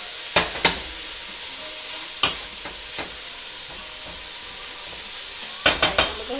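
Collard greens with smoked ham hocks sizzle steadily in a pot over medium heat, with sharp pops and clacks scattered throughout and a quick cluster near the end, close and moderately loud.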